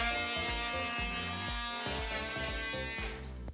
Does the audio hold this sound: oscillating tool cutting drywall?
yes